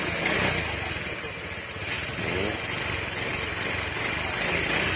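A fuel-injected Honda SH scooter engine runs close by with a steady, loud mechanical drone that swells slightly in places and never drops away.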